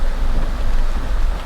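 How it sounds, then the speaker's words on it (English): Steady rain hisses loudly around a trike driving in the Philippines, mixed with a low engine and road rumble, a continuous wash of noise with no talking. "Driving in the rain."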